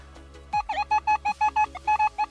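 A metal detector sounds a rapid series of short, bright electronic beeps, evenly pulsing and close, repeating about a dozen times.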